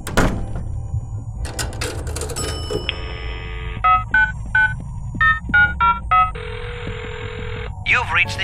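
Inside the Adventure Time video game, a phone dials a run of short electronic tones, then a long ring tone and a final beep follow, crisp and close.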